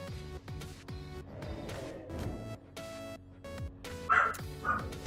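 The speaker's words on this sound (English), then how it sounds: "The dogs are barking." Pet dogs barking excitedly indoors at a delivery arrival, a string of sharp repeated barks in uneven bursts, fairly close, with some higher yips near the end.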